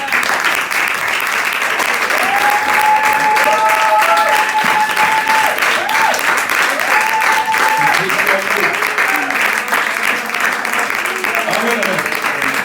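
A church congregation applauds during a Sunday worship service, dense sustained clapping filling the room from start to finish, with sung or shouted voices rising over it.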